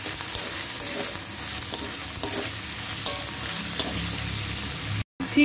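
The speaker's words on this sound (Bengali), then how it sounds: "পেঁয়াজটাও ভালো করে ভাজা ভাজা করে নেব।" Onions fry in oil with ginger paste in a pan, a close, steady sizzle broken by repeated spatula stirring scrapes, briefly cutting out near the end; no one speaks.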